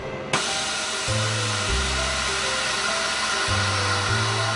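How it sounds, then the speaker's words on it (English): A vacuum machine degassing a crème anglaise mixture runs with a steady mechanical hum and pump drone, with a sharp click near the start and the low motor tone stepping on and off several times. "degas the mixture. This is something else you do with a vacuum machine."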